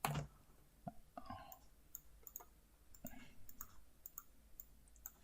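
Keyboard shortcut keys Ctrl X and Ctrl V are pressed in quick succession, soft scattered plastic clicks and taps at close range, fairly quiet, with no talking.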